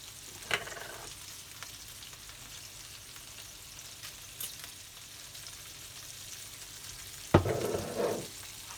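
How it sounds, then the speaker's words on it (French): Salmon burgers fry in a pan with a faint, steady sizzle, and a louder burst of crackling near the end. "les burgers, ils sont en train de bien cuire."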